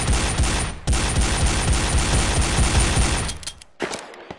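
P350 pistol firing in a VR shooter, a dense run of loud, rapid close-range shots that thin out near the end into a few separate reports.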